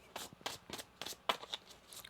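Tarot cards are shuffled by hand in quick rhythmic riffles, about eight soft papery bursts close to the mic, quiet with no talk.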